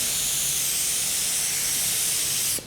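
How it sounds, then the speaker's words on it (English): A spray gun applies a coat over Bondo on a fiberglass panel, producing a loud, continuous hiss that holds steady for over two seconds and then cuts off abruptly. "So we're gonna spray a little bit more"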